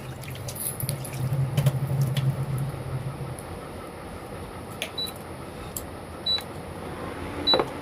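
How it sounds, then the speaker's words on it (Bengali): Water running at a sink while potatoes are washed by hand, a low steady trickle with splashes and a few sharp clicks and knocks, fairly close and unaccompanied by talk. "আলুগুলো ধুয়ে নিচ্ছি"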